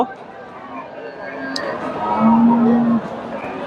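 A Sahiwal cow at a busy cattle market gives a low, drawn-out moo of about a second, heard through crowd chatter and background voices.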